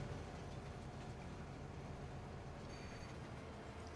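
Rumbling train from the Farm Simulator 25 video game on Montana's Judith Plains, with a steady broadband roar of rolling rail cars that holds level throughout, a faint tonal whine entering near the end.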